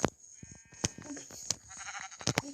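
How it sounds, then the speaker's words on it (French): Sheep in a Minecraft game bleat in short bursts, several calls close together over a faint game background, with a few low thumps between them. "Regardez, il y a plein de moutons."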